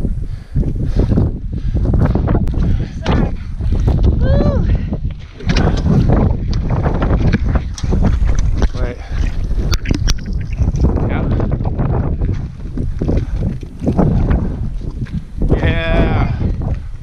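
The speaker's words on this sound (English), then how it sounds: "wind's whipping." Strong wind whips across the open summit of Mount Bigelow's West and Avery Peaks, roaring in loud sustained gusts against the microphone as people talk and move about nearby.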